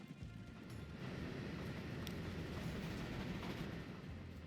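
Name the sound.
train running in the video game Transport Fever 2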